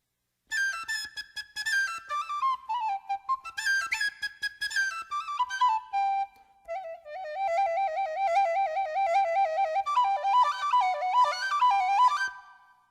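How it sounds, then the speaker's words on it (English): A penny whistle plays the bird's theme from Peter and the Wolf in a jug band arrangement, a lively, bright melody with quick trills and runs, then a slower, wavering passage, clear and close with no other sounds. "This one's called a penny whistle"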